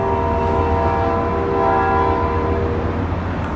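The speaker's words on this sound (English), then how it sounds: "I never fucking hear that train at 2 a.m." A train passing at night, its horn sounding a sustained chord over the loud rumble of the rail cars, steady and close for several seconds with no voices.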